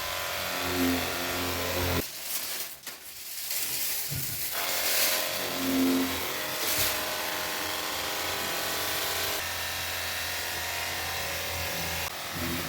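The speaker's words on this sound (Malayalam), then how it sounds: "നമുക്ക് സ്പ്രേ ഗൺ വെച്ച് കാർ കഴുകാം" A steady, loud hiss of pressurized water from a spray gun washing a car runs almost continuously, pausing briefly early on, with a low motor hum underneath.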